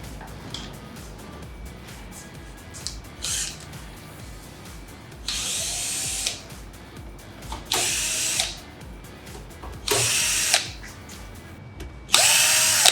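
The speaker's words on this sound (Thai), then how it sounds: "เดี๋ยวเราใช้สว่านในการแกะให้ดูกัน" A power drill works screws out of a Proeurotech amplifier case in several bursts, short whirs at first, then longer loud runs separated by pauses, close up with no talking.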